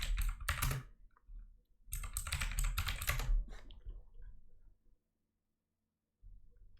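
A computer keyboard right in front of the microphone is typed on in two close, loud bursts of rapid clicking keystrokes, separated by a short pause and followed by near silence.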